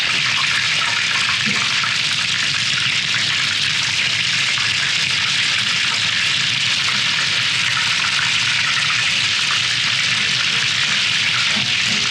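Karbanatky, Czech fried meat patties, sizzle loudly and steadily in hot oil, a dense, continuous crackling hiss close by with no talk.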